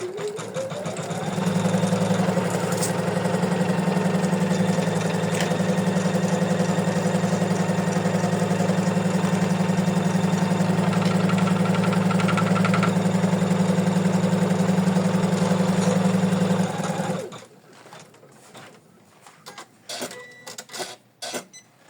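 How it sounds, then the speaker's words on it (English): Embroidery machine stitching a placement line for an in-the-hoop bookmark, a loud, steady rapid hum and needle chatter running for about seventeen seconds, then stopping, followed by scattered light handling clicks. "So let's stitch. We stitch the placement line."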